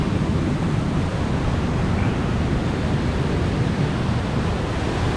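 The Cachoeira do Jajá waterfall in Morretes rushes as a loud, dense, continuous roar of falling water with no voices.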